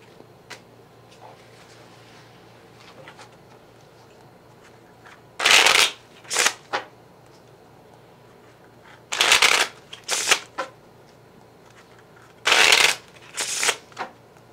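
Tarot cards are shuffled in short, crisp riffling bursts, three or four separate shuffles spaced out over quiet room tone, close and clear with no talk.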